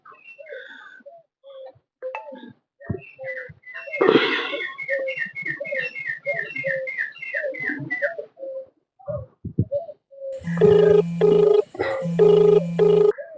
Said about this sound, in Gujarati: કમાભાઈ ફોન કરું